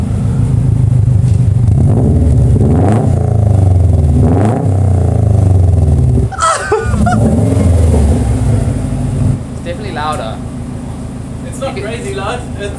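Tuned Subaru Forester with a large aftermarket exhaust, heard at a dyno session: a loud, close engine drone with rising and falling revs, a sharp burst midway, and people talking over it.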